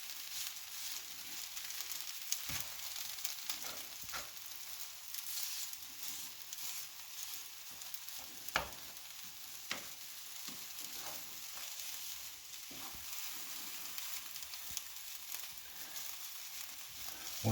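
Fried rice with ham and vegetables sits sizzling in a pan on the stovetop, a faint, steady hiss with occasional soft clicks of gentle stirring, no voices.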